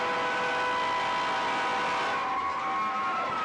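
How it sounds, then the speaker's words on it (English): A big train horn blows at a high school football game, Beckville against Waskom, a sustained harmonic blast with crowd noise beneath, held for about two seconds before tailing off. "I got a big train horn that blows."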